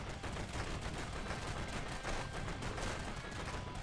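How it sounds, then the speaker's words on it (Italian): Two companions and a mounted machine-gun turret fire nonstop in the video game Defender Bros, a dense, loud rattle of rapid overlapping shots that runs without pause. "Stanno sparando i miei due companion più i miei, la mia mitragliatrice di là."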